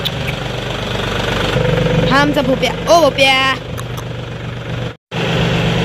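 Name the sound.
tractor engine running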